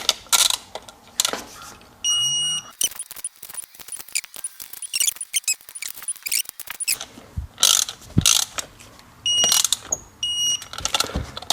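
Torque wrench tightening bolts on a Seadoo 951 engine build: a series of close ratcheting clicks in short bursts separated by pauses, with a few faint high electronic beeps between.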